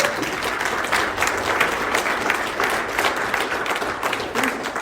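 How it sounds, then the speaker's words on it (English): Applause from an audience at a sobriety roundup gathering, a steady wash of many hands clapping for several seconds, with a few voices and cheers mixed into the crowd. "let's give them a round of applause"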